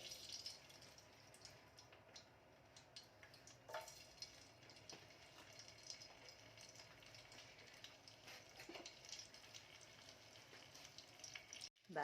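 A knob of butter sizzles and spits in a hot frying pan, a soft continuous crackle with scattered pops, fairly faint and without voices, ending in a sharp clatter.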